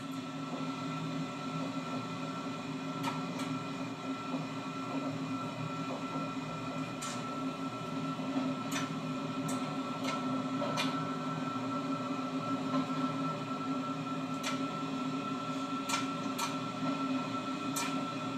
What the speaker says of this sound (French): Ambiance vapeur en gare d'Antwerpen-Oost, la gare d'Anvers-Est.